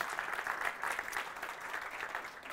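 An audience applauds at the close of a talk on retrospectives, steady clapping that fills the room, moderately loud and even throughout, with no voices over it.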